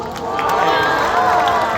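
An aquarium crowd at a sea lion show cheers and whoops in a loud, dense, continuous roar with mixed voices, no single clap or shout standing out.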